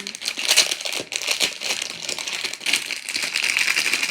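Crinkly gift packaging is torn and opened up close, a loud, continuous rustle of crumpling plastic and foil with bursts of sharper crackles.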